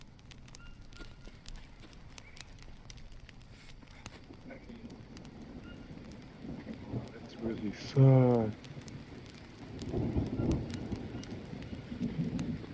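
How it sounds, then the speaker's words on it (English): Rain falls in the Amazon survival game Green Hell, a steady patter and hiss of drops, with faint rumbles beneath, running under a voice that speaks briefly midway. "Oh man, it's gonna rain."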